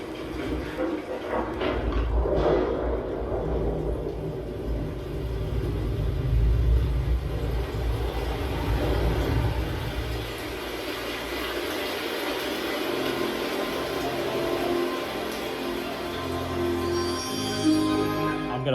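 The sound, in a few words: thunder effect played through soundbar bass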